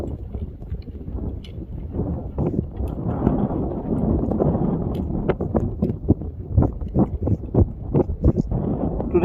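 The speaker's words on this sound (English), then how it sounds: "Today is quite windy," Steady wind buffets the microphone on a chilly hiking trail toward a smoking Icelandic volcano, a continuous low roar with repeated sharp gusty thumps growing stronger toward the end.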